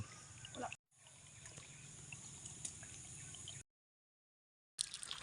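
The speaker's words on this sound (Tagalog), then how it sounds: "Tumatakbo na yung tubig." Water from a solar-powered irrigation pump trickling and pouring steadily at close range, with low background hum; the sound cuts out briefly twice.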